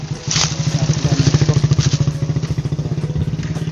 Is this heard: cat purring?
no